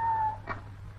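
A cat gives a single short meow, loud and close, over a low steady background hum.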